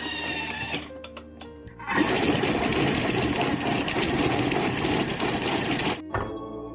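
A food processor set to speed 6 grinds meat for bakso meatballs, starting abruptly into a loud, steady motor whir for about four seconds, then cutting off.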